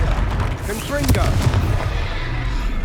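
A Confringo blasting spell explosion in the Hogwarts Legacy video game booms amid dense, rumbling battle noise, a loud burst mixed with other effects and a voice.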